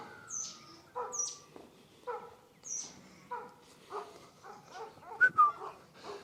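A farm dog in Australia barks a handful of times at night at a moderate distance, with short gaps between the barks and a few higher yips toward the end.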